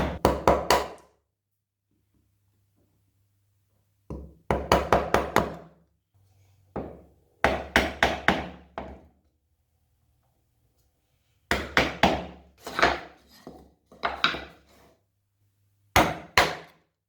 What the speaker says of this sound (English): With the chisel, you can clean it up once again.